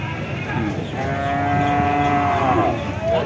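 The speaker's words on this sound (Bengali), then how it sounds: "দর্শক, দেখতে পাচ্ছেন বকনা বাছুর।" A heifer calf at a cattle market gives a long, loud, close moo with a rising drawn-out tone, over a murmur of market noise.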